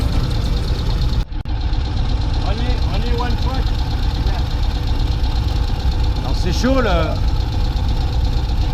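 A small river-crossing car ferry idles its engine at the landing with a steady low rumble under close conversation. There are brief squeaks and a short dropout partway through.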